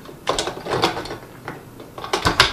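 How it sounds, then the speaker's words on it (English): Plastic gears of an Omega VRT350 juicer's auger clatter and ratchet in short, close bursts as the auger is turned by hand until they mesh. "spin it around a little bit until the gears mesh"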